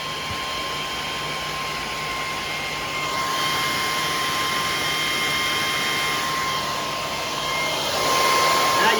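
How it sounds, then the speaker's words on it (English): Cooling fan of a Powerjack 12000 low frequency inverter whirring steadily with a constant broadband rush and a faint high whine, swelling slightly louder toward the end, no talking. "Now you can hear that fan."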